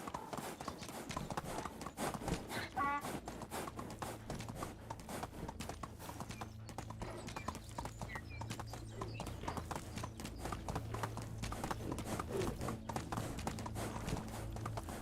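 Horse hooves clip-clopping steadily at a galloping pace in the Medieval Dynasty video game, a continuous rhythmic beat close up with a low drone underneath.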